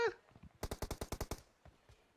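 A burst of about ten rapid automatic shots rings out in a video game shootout, close and sharp, with a few fainter scattered shots after it and a brief voice sound at the start.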